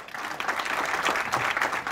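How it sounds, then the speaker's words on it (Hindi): Dense, steady applause from the audience at a national deliberation meeting in Vrindavan, a continuous wash of many hands clapping at moderate volume throughout. "उनके लिए जोरदार तालियां बजाएं।"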